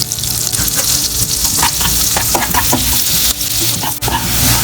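Lots of garlic sizzles and crackles loudly in hot oil in a pan, a steady close frying hiss with scattered pops and stirring sounds throughout, no voices.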